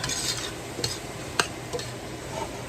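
Flour is stirred into sizzling butter in a pot: a constant buttery sizzle under scraping stirs, with a few sharp clicks of a utensil against the pot, close and alone without speech.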